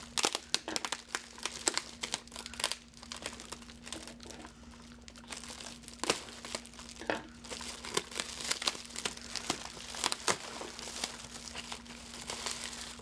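A Stylevana box of skincare products being unpacked, with plastic and paper packaging crinkling and rustling close up in irregular bursts over a low steady hum, and no talking.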